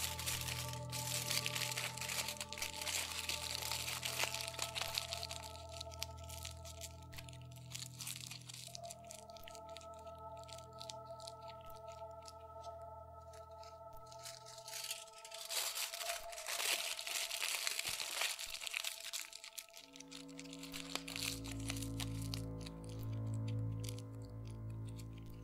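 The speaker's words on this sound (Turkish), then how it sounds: "yine folyo ile kaplayın." Aluminium foil crinkles steadily while being wrapped around a small cloth bundle, a dense papery rustling and crunching that runs throughout without pause, close and fairly loud, with no talking.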